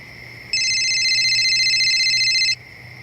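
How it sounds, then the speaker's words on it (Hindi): A phone rings with a steady electronic trill for about two seconds, bright and clear against a quiet background. "प्रकाश जी, फोन उठाइए, किडनैपर का है।"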